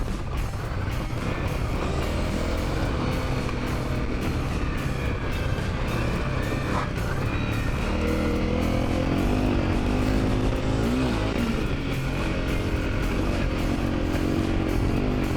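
A 2017 Honda CRF250L Rally motorcycle climbs a steep, slick hill, its engine droning continuously up close with rising and falling revs and no pauses.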